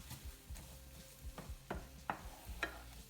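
Onions cook in a hot pan on a stovetop for beef stroganoff, giving a faint, soft sizzle broken by regular scraping and stirring strokes about every half second, heard close and quiet.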